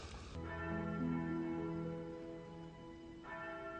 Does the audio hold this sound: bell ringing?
yes